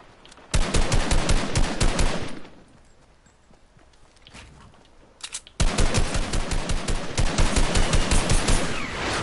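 Automatic gunfire in a first-person shooter video game played on console, long loud bursts of rapid shots, a quieter stretch with scattered shots between them, then another sustained volley.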